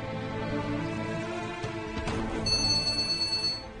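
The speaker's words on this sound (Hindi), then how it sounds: "फिर से फोन आ गया।" A telephone rings again indoors, a faint electronic trill entering partway through and repeating in short pulses over a soft background hum.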